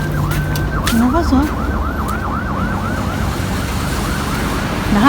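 Police siren from a passing vehicle on a cold street, a loud wailing yelp cycling rapidly and repeatedly over traffic rumble, close by and continuous.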